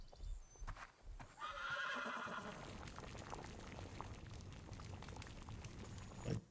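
A horse in a TV show gives a loud, drawn-out neigh that rises over a busy background of rumbling, clopping and shuffling sounds.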